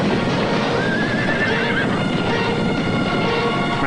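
Horses whinny and hooves clatter on a harness racing track during a violent multi-horse pileup with carriages, a loud, dense commotion with a rising neigh standing out above the steady din.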